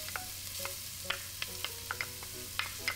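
Chopped yellow onion sizzles in hot oil with a soft, steady frying hiss close by, while spatula scrapes and clicks land at irregular intervals. Nobody speaks.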